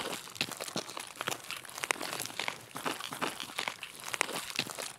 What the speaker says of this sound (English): Crunch, crunch, crunch. That's all I'm hearing right now.